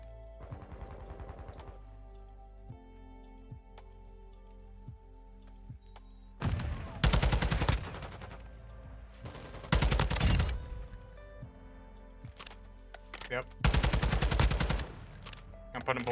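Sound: gunfire in the video game Call of Duty MW2

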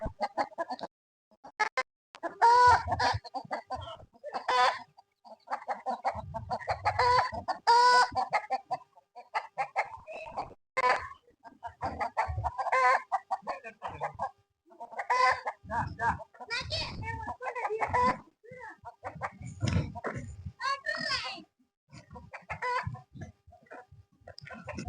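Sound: chickens clucking

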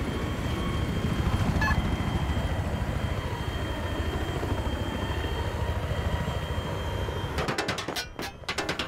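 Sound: helicopter in a video game

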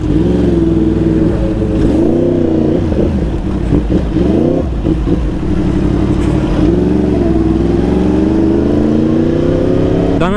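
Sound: motorcycle engine revved in neutral

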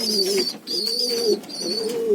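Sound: pigeons cooing

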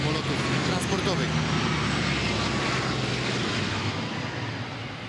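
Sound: Lockheed C-130 Hercules four-engine transport aircraft flying over

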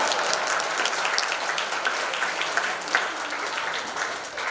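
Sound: audience clapping

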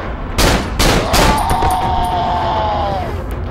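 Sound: gunshots in the video game Cry of Fear

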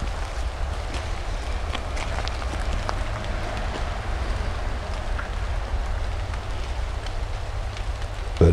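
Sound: rain falling in the woods

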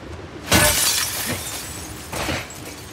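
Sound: glass shattering in The Last of Us Part II video game

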